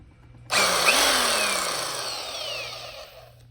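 A worn-out rotary hammer drill starts abruptly and runs steadily, loud and close, with a high whine and a slight pitch dip before settling into a continuous grinding hum.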